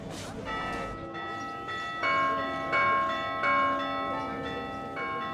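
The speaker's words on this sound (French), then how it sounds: "À midi, au marché de Rias, on a les cloches." Church bells ring at noon over the Rias market in overlapping, resonant peals that swell and sustain, with several strikes landing across the span over a faint background murmur.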